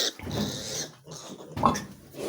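A young sow grunts softly at close range, a few short, low grunts spread across a couple of seconds with quiet pauses in between.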